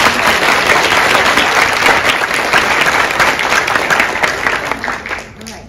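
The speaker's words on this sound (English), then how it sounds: "give them a round of applause" An audience at a 2022 school business plan competition applauds loudly in a dense, sustained wash of clapping that fades out over the last second.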